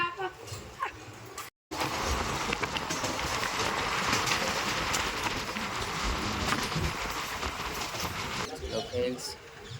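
A passenger train pulling away from Kaikaluru station rumbles along the tracks in a continuous roar with rhythmic rail clatter, heard from on board. A short gap of silence comes early, and voices are faint beneath the noise.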